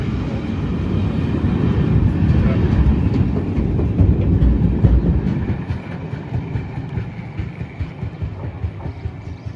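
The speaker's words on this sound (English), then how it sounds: "we're going to be pulled behind two steam locomotives." A Talyllyn Railway narrow gauge train pulled by two steam locomotives rumbles steadily along the track, a loud continuous roar with rhythmic clatter that eases slightly toward the end.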